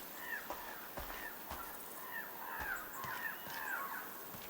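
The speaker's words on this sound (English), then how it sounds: "Noisy birds." Crows cawing in the video game NUTS: several distinct, fairly faint caws repeating irregularly over a soft outdoor ambience, with occasional light clicks or thumps.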